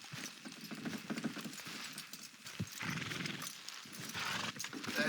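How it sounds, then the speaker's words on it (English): Horses clip-clopping and straining as they pull in the video game Red Dead Redemption 2, uneven hoof thuds mixed with creaking mechanical rattles and a whinny-like call, close and fairly loud with no voices. "Horses will pull it clean down."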